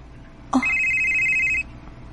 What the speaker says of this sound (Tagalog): si Raver, nanawag